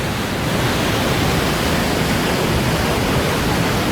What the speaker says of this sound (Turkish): Rıldavasta Şelalesi'ndeyiz.